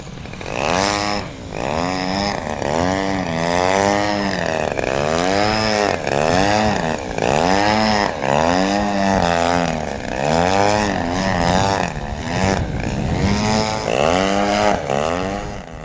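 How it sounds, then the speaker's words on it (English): A model aircraft engine in 3D hover and rolling harrier practice, its buzzing whine rising and falling continuously as the throttle is worked, loud and steady with no talk. "As you can hear, the throttle is constantly moving to maintain good altitude."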